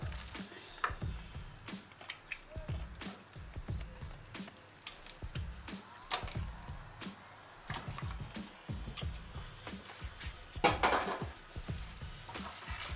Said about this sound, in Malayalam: ഇനി ഇതിലേക്ക് നമുക്ക് ചിക്കൻ ചേർത്ത് കൊടുക്കാം